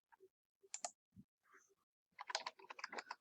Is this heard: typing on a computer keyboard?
yes